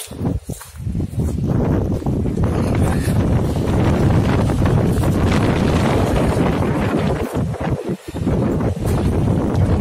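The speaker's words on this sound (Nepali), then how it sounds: "पुरा हावा" Strong wind roars across a village in gusts, buffeting the microphone loudly and continuously with brief lulls, and nobody speaks.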